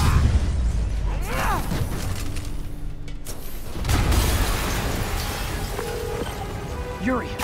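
Explosion in the Spider-Man PS4 video game, a dull booming blast among game sound effects and rumbling debris, with voices talking over it.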